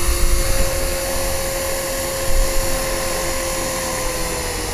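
A 450-size RC helicopter coming in to land, its rotor and motor giving off a loud, steady high-pitched whine with a constant tonal hum close by.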